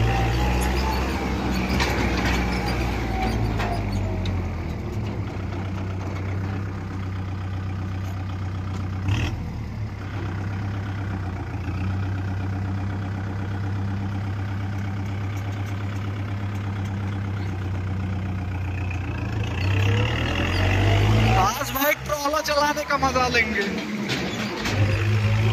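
A Kubota 4501 tractor pulling a loaded sugarcane trolley gives a steady low engine drone throughout, with a brief louder rumble near the end, while someone talks over it.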